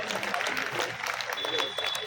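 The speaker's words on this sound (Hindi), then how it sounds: "एक बार जोरदार ताली की गड़गड़ाहट के साथ" Audience applause welcoming an arriving police officer at a Hindi comedy poetry gathering in Chomu, Jaipur, moderate scattered clapping with voices mixed in.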